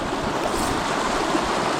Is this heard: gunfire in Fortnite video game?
no